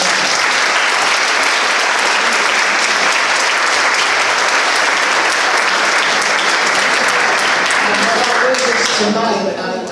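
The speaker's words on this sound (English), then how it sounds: "Let's give them all another round of applause." Loud, sustained applause from the audience at a city council candidate forum in Norcross, a dense wash of clapping that holds steady for nearly ten seconds before a voice begins to speak as it fades.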